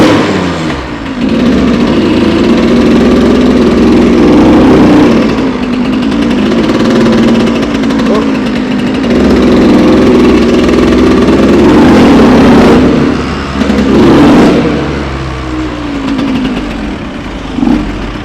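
A Suzuki RM85 two-stroke dirt bike runs close by as it is ridden, its buzzy engine note holding steady with a few small throttle swells and dips.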